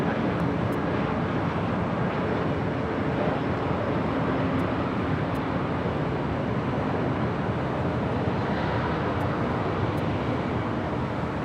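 A Delta jet airliner takes off from runway 24 left at LAX, a loud, steady, broadband engine roar that holds without break across the whole stretch.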